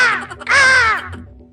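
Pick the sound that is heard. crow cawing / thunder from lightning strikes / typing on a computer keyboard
crow cawing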